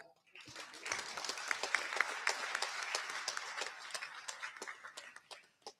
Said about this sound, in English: We all could clap for that.